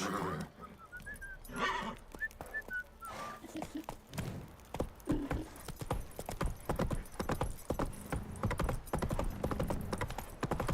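Roach, the horse in The Witcher 3, clip-clops along at a steady trot, hooves beating rhythmically and close, with a voice speaking briefly early on and a faint whinny-like tone.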